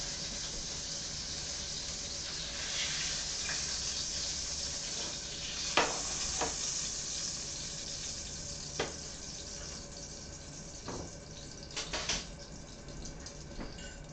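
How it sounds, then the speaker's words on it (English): Faint, steady sizzling of a sausage frying in a pan, with a few soft clicks and scrapes, no talking. "And you can hear it sizzle all the way from there."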